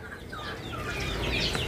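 Chickens cluck repeatedly in the background, with soft, scattered clucks and calls over a steady outdoor hum.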